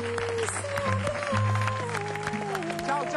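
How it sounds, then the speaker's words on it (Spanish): A studio audience claps for Señora Rosana in a television show setting, with steady applause blending with music and a voice speaking over it. "un gran aplauso para ella"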